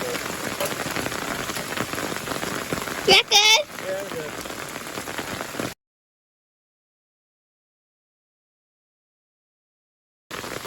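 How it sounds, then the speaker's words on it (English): Steady rain patters on surfaces nearby during gold prospecting in Uwharrie, with a brief exchange of voices partway through before the sound cuts to silence and then returns. "There's a lot of rain now"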